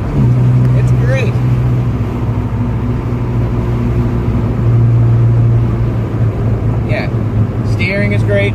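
A carbureted Mazda RX7 drives along with a steady engine drone and gear changes, heard from inside the car, loud and continuous.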